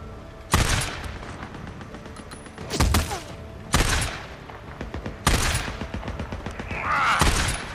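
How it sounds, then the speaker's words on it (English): Bursts of rapid gunfire in the open-world game Days Gone, loud close volleys recurring every second or two with rattling automatic fire and thuds between them, no voices. "Stop shooting him."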